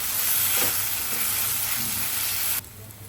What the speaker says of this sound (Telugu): పచ్చి వాసన పోయే వరకు వేపుకోవాలండి. మీడియం ఫ్లేమ్లో పెట్టుకొని వేసుకోవాలి.